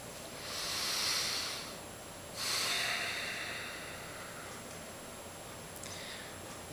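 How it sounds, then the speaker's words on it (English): A slow, deep breath, drawn in and let out as two long airy rushes close to the ear, followed by a softer trailing exhale over faint steady background noise. "Take a deep breath."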